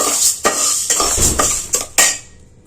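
Grains dry-roasting in a pan are stirred with a metal utensil, giving loud, close scraping and clanking strikes at a steady rhythm with no talking.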